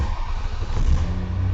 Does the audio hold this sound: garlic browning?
no